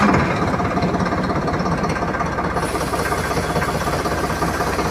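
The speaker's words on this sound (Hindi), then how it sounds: "उससे पहले ट्रैक्टर की आवाज़ ज़रूर सुनेंगे भैया।" A Swaraj 963 CRDI tractor diesel engine idling near 700 to 800 rpm, with a steady, close, loud chugging rumble throughout and no talk.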